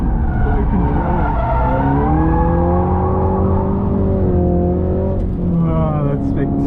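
A Subaru BRZ slides through Pheasant Wood, its engine note rising and falling in sustained harmonic sweeps while tires scrub, loud and close throughout, with people talking over it.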